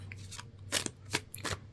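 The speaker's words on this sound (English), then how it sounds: "All right, let's shuffle our cards." Tarot cards being shuffled by hand, heard as three or four quick riffling bursts of papery flutter, close and fairly quiet, with a low steady hum underneath and no talking.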